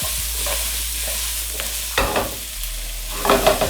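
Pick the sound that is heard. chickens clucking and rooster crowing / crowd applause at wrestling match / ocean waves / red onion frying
red onion frying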